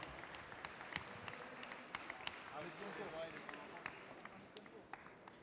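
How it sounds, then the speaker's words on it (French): Audience at a cooking contest applauding a candidate, a steady scattered clapping with sharp individual claps, moderately distant, under a faint hum of the room. "On l'applaudit, hein, on peut l'applaudir s'il vous plaît"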